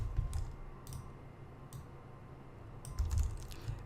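Computer keyboard keys clicking in short bursts of quick typing separated by pauses, close and clear against a quiet room hum.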